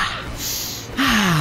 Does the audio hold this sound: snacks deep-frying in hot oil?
no